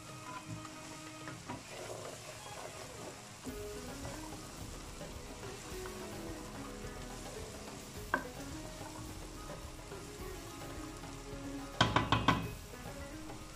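Lobia being sautéed with masala in a pan, giving a low, steady sizzle with occasional scrapes and knocks of a spoon. A short burst of louder clatter comes near the end, and faint voices sit in the background.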